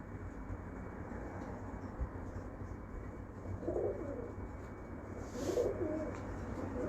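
A pigeon sent from Pakistan coos in soft, low bursts around the fourth and sixth seconds, close by over a steady rumbling background hum with a faint train-like drone.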